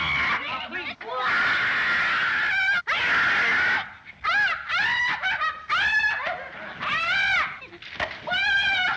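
A woman screams over and over in the classic film The Invisible Man, shrill wavering wails and shrieks in short repeated bursts with brief gaps, loud and close.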